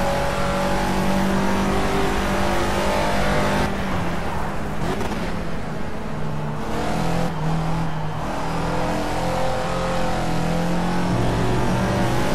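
A Caterham Super Seven race car's engine drones steadily on track at Donington in Project CARS. The loud, close engine note rises and falls through gear changes, with brief dips as it lifts off between corners.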